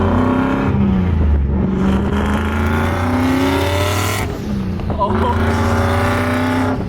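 Boosted second-generation Ford Mustang Coyote V8 pulling hard, engine note climbing through the gears with brief shift drops, loud and close from inside the car, with a short exclamation from a passenger.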